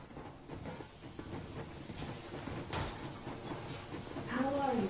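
Steam train Yermak moving in the video game Metro Exodus: a steady hissing, rumbling rush of steam and rail noise that swells toward the end, with a voice speaking briefly over it.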